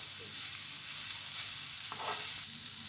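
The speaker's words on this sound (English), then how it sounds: "Now add finely chopped ginger and garlic. And saute it well until it becomes golden brown." Finely chopped ginger and garlic sautéing in a pan for Schezwan sauce: a steady, bright sizzle close up, with a brief stirring scrape partway through and no talk.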